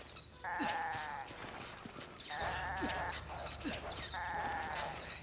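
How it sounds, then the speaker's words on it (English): Goats in Resident Evil 5 bleat repeatedly in long, wavering cries, three distinct calls spaced a couple of seconds apart over a low ambient background. "So now we have our goat friends."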